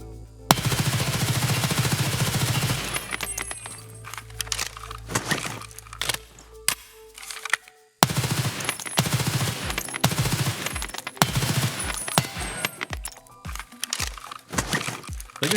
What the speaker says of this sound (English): Look at this hip fire, you guys.